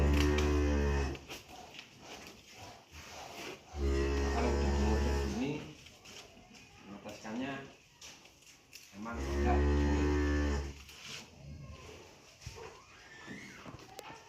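Cattle in a cow pen let out three long, loud moos spaced several seconds apart, with quieter shuffling and low background noise between calls.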